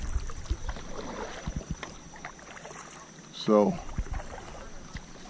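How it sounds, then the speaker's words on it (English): A boat is paddled on open water during a bass fishing outing. Soft, faint splashes and strokes sit under steady wind noise, and someone speaks briefly partway through. "paddling."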